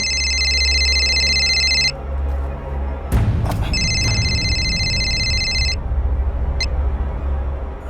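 Telephone ringing at night in a crime drama scene, a loud electronic trill in two bursts with a pause between, over low background rumble and brief shuffling.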